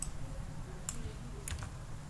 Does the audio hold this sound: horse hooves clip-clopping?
no